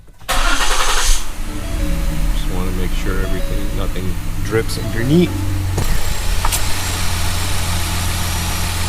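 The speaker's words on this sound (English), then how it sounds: "let's go start the car" A Ford Taurus SHO engine cranks, catches and settles into a steady idle after an oil change, close and loud, while a person talks over the running engine.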